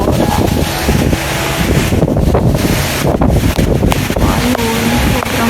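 Strong, loud typhoon wind from Typhoon Ulysses roaring steadily into the microphone on a rooftop garden, with heavy buffeting rumble throughout, no voices.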